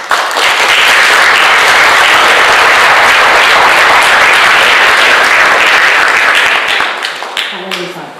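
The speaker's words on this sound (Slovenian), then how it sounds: "me poprosim za en močan aplavz" Strong, close audience applause at an art exhibition opening, dense and sustained clapping at full volume for several seconds, then thinning and fading near the end as a voice starts.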